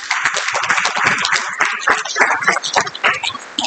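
An audience applauds a speaker at the close of a session during a heritage training program, dense, steady clapping from many hands, loud and close throughout with no voices over it.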